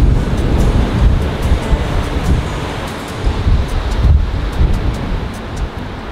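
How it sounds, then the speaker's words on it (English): Strong wind roars and buffets the microphone in continuous gusts, with a surging, surf-like rush and no talking. "this morning is also another rainy morning, super, super windy"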